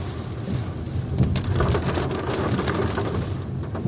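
Heavy rain pours down in Odisha, heard during a ride as a loud, continuous hiss and rumble with thudding drops and no talk.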